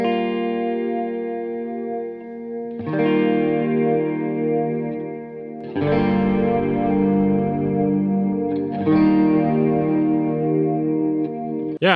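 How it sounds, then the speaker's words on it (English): Electric piano chords struck about every three seconds, each sustaining with a shimmering, wavering chorus and trailing echoes. "I think the chorus and echo sound pretty good on that there"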